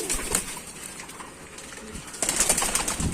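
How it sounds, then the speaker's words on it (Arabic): Pigeons coo and flap their wings close by, with a burst of fluttering toward the end over a steady background murmur. "الحمام ده"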